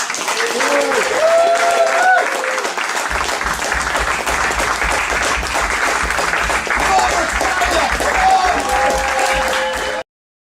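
Applause rises from an audience at a live event, loud and sustained for about ten seconds, with a voice talking over the clapping before it cuts off abruptly.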